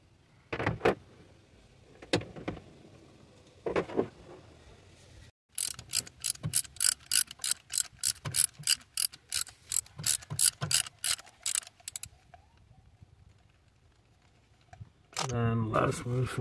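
A ratchet turning out the spark plugs of a GMC Acadia, with a few scattered clicks, then a fast, even run of close metallic ratcheting clicks, and a voice speaking near the end.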